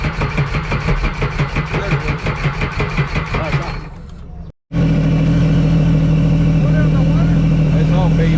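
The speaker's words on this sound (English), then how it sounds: "All I know is my Yamaha started." Yamaha jet ski engine running steadily, loud and close, with a rhythmic pulsing throb that cuts out briefly before the motor starts again and settles into a continuous drone; people talk over it.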